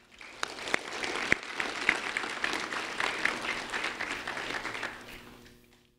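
Applause for a student honoree at a recognition ceremony, a moderate crowd clapping steadily with a few sharp individual claps standing out, then fading away.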